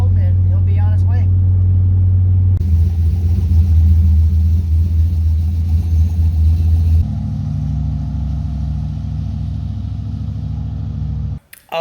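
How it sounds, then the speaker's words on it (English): A turbocharged Cadillac Escalade drives on the road, a continuous low engine and road drone heard from inside the cabin that shifts in pitch partway through, with a brief voice near the start. "So I'm driving there. I'm gonna pick him up in the Escalade"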